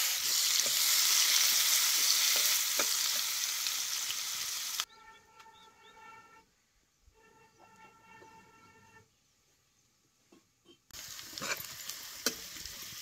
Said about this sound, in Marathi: आता हे बारीक चिरलेला कांदा हे तेलात घालायचा.